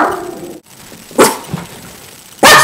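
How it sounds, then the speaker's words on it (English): A tiny dog barks in a few sharp, loud bursts, with short gaps between them and a brief yip in the middle, close by and with no talk over it. "This is my dog. This is what made all the noise last week."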